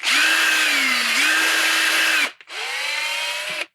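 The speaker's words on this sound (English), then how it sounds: "I'm going to use a 1/8 drill bit here in a second" A power drill with a 1/8 inch bit whines close and loud in two sustained runs, the motor pitch dipping and recovering under load, separated by a short gap, with no voices.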